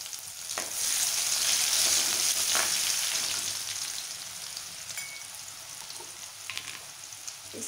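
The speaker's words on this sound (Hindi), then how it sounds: "अब ये मैं इसमें प्याज को बहुत ज़्यादा फ्राई नहीं करना है।" Onions fry in a pan for a tomato and masoor dal vegetable dish, giving a dense steady sizzle that swells early and then eases, with a few soft stirring knocks.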